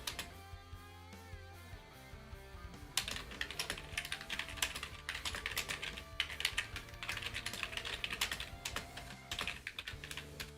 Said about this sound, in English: I need a quieter keyboard.